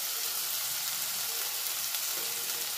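Salt and turmeric are stirred into a sautéed ginger, onion and garlic paste in a pan, giving a close, steady sizzle with faint scraping throughout and no voices.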